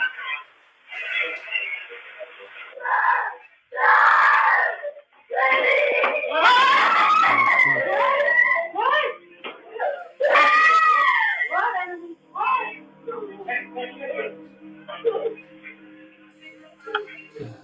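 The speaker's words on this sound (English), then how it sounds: "She lets out a piercing scream as she jumps from her bed and runs to her parents' bedroom." A girl, woken when her radio suddenly turns on, lets out loud, high-pitched screams in several bursts, rising and wavering, with noisy clatter and other sounds around them as she runs from her bed.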